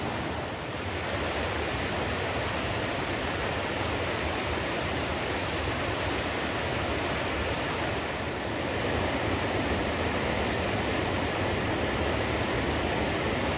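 Powerful rushing river, the Housatonic in Connecticut, roaring as steady broadband noise that stays loud and unbroken throughout, with no voices.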